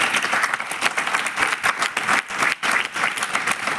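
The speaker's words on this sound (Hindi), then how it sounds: "इसलिए जोरदार तालियां आप सारे लोगों के लिए होगी" Audience at an agriculture awareness program bursts into sustained, dense applause, many hands clapping at once, loud and close, steady for a few seconds.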